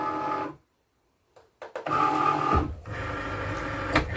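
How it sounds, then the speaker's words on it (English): A cutting machine draws in a cutting mat for car decals, a steady close mechanical whir that drops out briefly, then resumes with clicks and motor hum, with no talking. "So you just load your mat into the machine."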